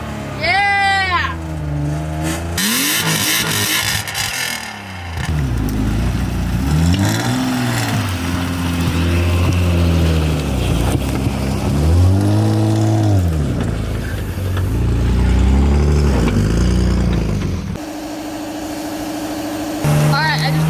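A BMW E36 328i drift car engine cranks and catches, then revs in repeated rising and falling sweeps, loud and close; a voice speaks briefly near the start.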